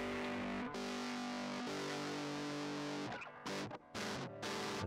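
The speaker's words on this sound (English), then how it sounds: "You just get distortion or clean." Heavily distorted guitar tone from a Fostex MR-8HD multitrack recorder's distortion effect sustains loudly with a fuzzy, buzzing texture, then chops into short abrupt bursts separated by gaps.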